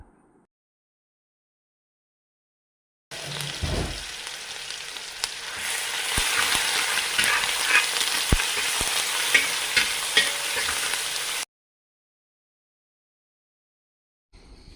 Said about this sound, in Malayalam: എണ്ണ ചൂടായിട്ടുണ്ട് ആദ്യം നമ്മൾ ഇതിനകത്തേക്ക് ഒരു നൂറ്റമ്പത് ഗ്രാം ഇഞ്ചി ചതച്ചത്